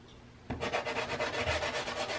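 Dull violet pastel rubs across paper on a sandy area of a landscape painting, giving a close, steady scratchy rasp with soft rhythmic strokes after a brief quiet moment.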